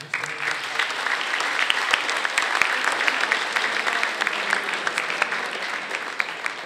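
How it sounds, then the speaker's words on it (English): After an All-Ireland softball singles handball final, a crowd in the hall breaks into sustained applause: a dense, even wash of clapping close by that holds steady throughout. "give yourselves a big round of applause"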